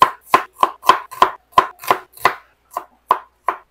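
Onion chopped with a knife on a cutting board, a dozen crisp, sharp thwacks in a quick, slightly uneven rhythm, close and clear with nothing else underneath.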